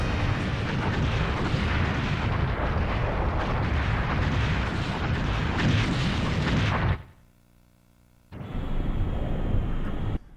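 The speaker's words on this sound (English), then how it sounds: "Holy shit, that explosion was huge." A huge explosion in the video game Star Fox 64 roars as a loud, dense rumble for about seven seconds, cuts off to near silence, then a quieter sustained tone returns.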